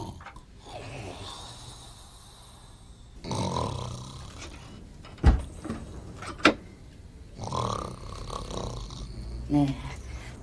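Loud snoring from a sleeping person, heavy rasping breaths that come and go in uneven bursts, with a couple of sharp snorts and a voice talking in between.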